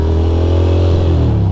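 A motorcycle roars past close by on a Brooklyn street, a loud steady engine drone with rising pitch that fills the whole short moment.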